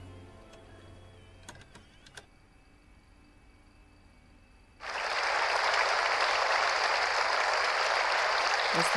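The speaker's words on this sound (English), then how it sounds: "That's the fakest applause I've ever heard in my life." During a game of Contradiction: Spot The Liar, a sudden burst of loud fake applause follows a few quiet seconds of faint clicks and ticks, sustained and uniform like a canned crowd clapping.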